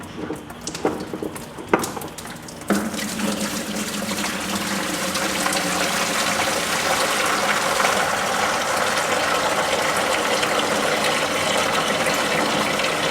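Water gushes steadily out of the drain of a Grizzly 100 cooler, a loud continuous rushing pour that starts after a few brief knocks and keeps flowing strongly to the end.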